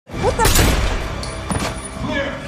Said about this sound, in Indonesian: ternyata Bullet telah menembak Hill dari belakang